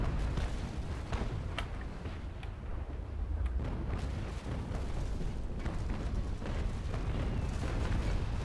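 Cannon fire from sailing warships in the naval combat game Naval Action, a dense rumbling barrage of booms rolling on continuously, mid-distance and fairly even in loudness.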